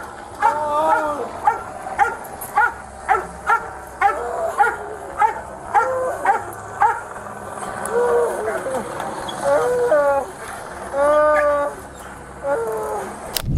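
A police K9 dog barks relentlessly during an arrest after a stolen-truck chase, with rapid repeated barks, yips and whines close by, while officers shout over it.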